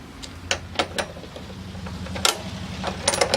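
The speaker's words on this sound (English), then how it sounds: "So we're going to have to take this bolt out," Metal clicks and ratcheting from a wrench loosening a bolt on a seat, a series of sharp, close taps and clicks spread over a few seconds against a low steady hum.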